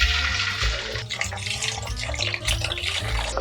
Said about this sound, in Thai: ระหว่างทอดนี่ระวังน้ำมันกระเด็นนะคะ